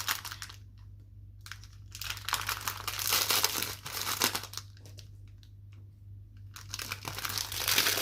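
Small plastic bags of diamond painting diamonds being opened: close, bursty crinkling and crumpling of plastic in several bouts separated by short quiet gaps, over a steady low hum.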